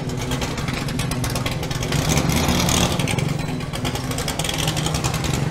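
A Ford GT40 race car at the Le Mans Classic 2022 gives a loud, close, continuous engine roar that swells to a stronger rev in the middle before settling back, with no one speaking.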